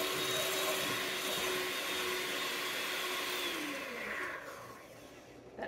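Handheld electric mixer whipping in a bowl, a loud steady whirring motor drone that dips in pitch and fades toward the end, with no talking.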